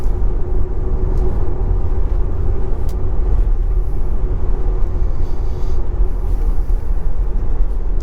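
A Tesla Model Y Long Range all-wheel-drive electric car accelerates through a bend. Cabin sound is a loud, steady low rumble of road and tyre noise, constant throughout with no engine note.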